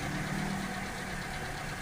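A car engine idles steadily with a constant low hum and rumble during a battery swap, with no pauses and no voices.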